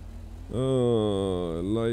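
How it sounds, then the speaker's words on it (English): Black car accelerating away in a video game, its engine note rising sharply after a short quieter moment, loud and close with a steady harmonic whine. "that black car leaving the scene there"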